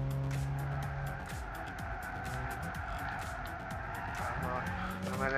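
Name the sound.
race cars driving in Gran Turismo 6 video game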